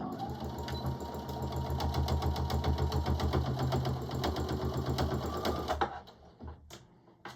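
A sewing machine runs a steady, rapid stitching rhythm while sewing a onesie seam with double stitching over the armpit, close and continuous for about six seconds before it stops.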